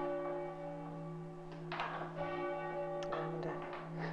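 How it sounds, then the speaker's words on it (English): Tenor church bell at St Mary the Virgin, Bampton, being set during restoration, a deep sustained ringing hum with bright strikes and swells partway through, fairly faint and reverberant. "Now James is going to do exactly the same thing with the tenor bell."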